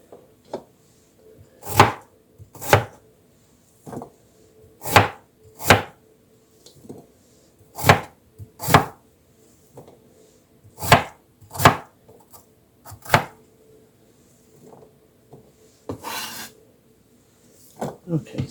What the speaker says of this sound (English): turn around and cut them into cubes.